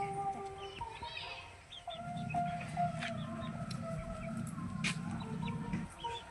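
Desi chickens on a Karnataka poultry farm cluck and chatter nearby, with a higher squawk early on and a low steady hum underneath.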